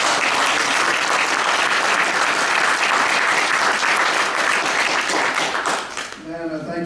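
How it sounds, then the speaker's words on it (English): An audience gives sustained, dense applause for John Conyers at Representative Bobby Scott's December 2014 remarks, with many hands clapping evenly at full volume before tapering off at the end. "give John Conyers another round of applause"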